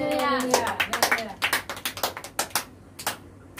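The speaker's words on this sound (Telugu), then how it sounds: "చప్పట్లు కూడా దేవునికి స్తోత్రం" A church congregation claps in a brisk, uneven burst of sharp hand claps that thins out toward the end, close and fairly loud, with a voice heard briefly at the start.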